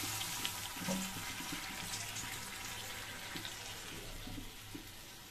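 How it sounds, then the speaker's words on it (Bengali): Water splashes steadily from a tap or vessel into a pan of shrimp posto, a close, continuous pouring wash with small clinks and bubbling beneath it. "এবার আমি একটু জল দিয়ে দিব।"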